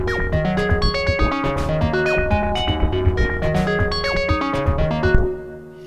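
A busy drum machine beat from a Pocket Operator Robot, clock-synced to an Arturia Microfreak synth, pounds steadily under bright melodic synth notes for about five seconds, then cuts off and leaves a short fading tail.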